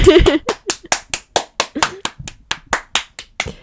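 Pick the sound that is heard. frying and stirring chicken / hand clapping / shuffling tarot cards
hand clapping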